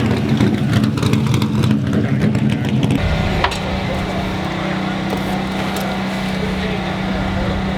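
A race car at Dominion Raceway revs hard and accelerates around the track, a loud roaring engine up close; after a sharp change the tone settles into a steady, droning engine hum under faint chatter.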